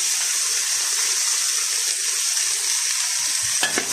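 Celery, water chestnuts, carrots and peppers hit a hot pan for a Chinese chicken and vegetable stir-fry, giving a loud, even sizzle that holds steady throughout, with a few soft clatters near the end.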